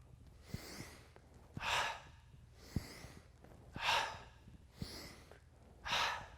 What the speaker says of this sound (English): Breathe out the mouth each time we drop.